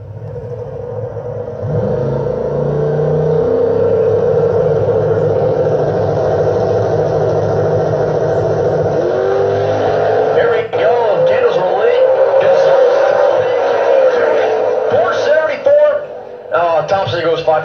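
Turbocharged LS drag race car accelerating down a racetrack in an X275 class event, a loud sustained engine roar under continuous commentary from a track announcer.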